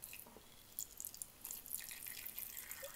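Water trickles faintly into a tarantula's small water dish, a soft uneven drip and splash for about three seconds, quiet and close with no talking.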